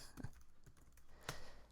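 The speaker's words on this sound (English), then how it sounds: "The problems with typing with one hand." Keys tapped one-handed on a computer keyboard, a few soft scattered clicks with a sharper click near the end, close and quiet with no voices.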